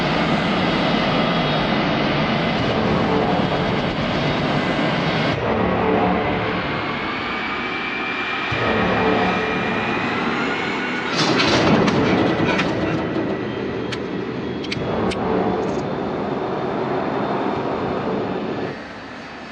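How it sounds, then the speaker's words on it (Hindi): Passenger jet engines roar as a flight takes off from runway 19, a loud, steady, broadband rumble that swells and surges through the takeoff run, with no voices. "फ्लाइट SA-407 को उड़ान भरने की परमिशन दी जाती है। आप रनवे नंबर 19 पर जाएं।"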